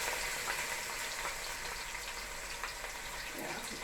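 Onion frying in a pan as part of a saltfish dish, giving a steady, close crackling sizzle with small pops throughout and no talk.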